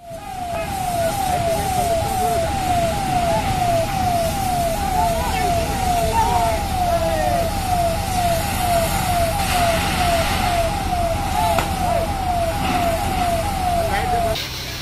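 Fire brigade vehicle arriving at a blazing tea canteen at the old Employment Chowk, its siren wailing in a fast, steady, repeating warble over a running engine and street noise, loud and close for the whole stretch.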